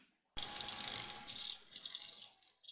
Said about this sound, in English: We're going to add 1/4 cup of vinegar.